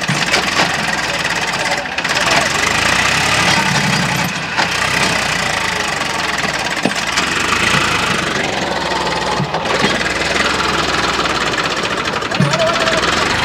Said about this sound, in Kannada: ಹಾಂ ನೋಡಿ, ಟ್ರ್ಯಾಕ್ಟರ್ ಕಚ್ಕೊಂಡ್ಬಿಡ್ತು.